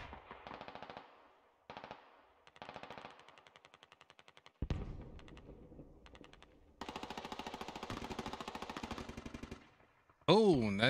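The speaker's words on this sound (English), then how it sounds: "Then they got the HMG firing in on them after they take down the squad lead." Heavy machine gun fire in the military shooter game Squad, loud bursts of rapid automatic shots in several volleys, some longer and sustained, with a voice breaking in at the end.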